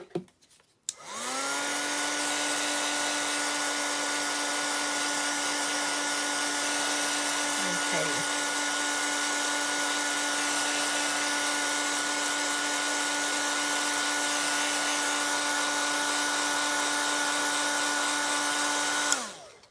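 A hair dryer blows steadily on freshly painted junk journal pages and tickets, a loud continuous whine starting about a second in and running unbroken for nearly twenty seconds before cutting off, with a brief faint clatter partway through.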